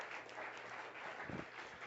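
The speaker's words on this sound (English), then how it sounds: "all of this applause is for you, Rachel, as you go back to your seat" Live audience at a magic and mentalism show claps and applauds continuously, a dense, steady wash of hands from a crowd in a room, moderately distant and even throughout, without talk.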